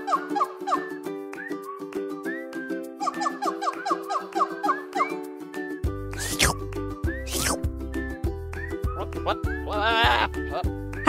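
Sheep bleating in a video game, repeated short wavering bleats, several in quick succession, over a looping game music bed that gains a pulsing beat midway.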